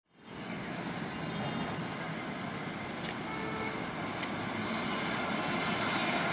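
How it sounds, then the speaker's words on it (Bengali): A through train runs past a railway platform, a steady, broad roar of wheels and carriages that holds evenly for several seconds, with a few faint sharp clicks along the way. "শুনবেন 5 নম্বর প্ল্যাটফর্ম দিয়ে থ্রু ট্রেন যাবে।"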